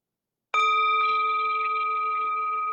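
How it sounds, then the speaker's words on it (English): A meditation bell struck once after a silence, giving a clear, bright ring that sustains and slowly fades, heard alone in a quiet room. "the sound of the bell returns us to our true home"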